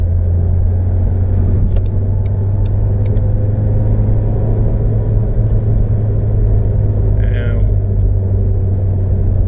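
A Renault Clio with a 1.5 dCi 100 hp diesel engine cruises at 90 km/h in fourth gear, giving a loud, steady engine drone and road rumble inside the cabin, with a few faint ticks over the constant hum.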